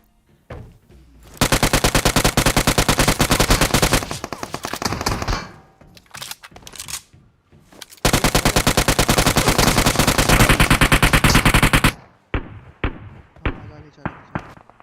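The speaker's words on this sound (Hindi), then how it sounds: "मैं तो चुपचाप से गोलियां ही तो बजा रहा था" Automatic gunfire from the mobile battle-royale game PUBG Mobile rattles in two long, loud sustained bursts, with shorter scattered shots and pauses between and after them.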